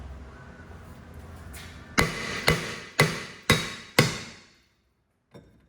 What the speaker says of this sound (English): we're gonna hit the rotor here in a second, and if it doesn't come right off